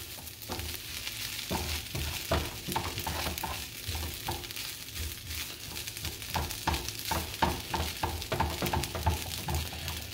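Eggs being stirred into fried rice in a hot pan, with a steady sizzle and repeated scraping, clattering stirs of a utensil against the pan, close and fairly loud throughout.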